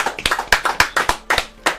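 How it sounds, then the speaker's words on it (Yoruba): Rhythmic hand clapping from an audience applauding people, a quick steady run of roughly a dozen sharp claps close by, with no talking. "àwọn èèyàn wa ní Akínlàlú ẹ bá ń pàtẹ́wọ́ fún wọn"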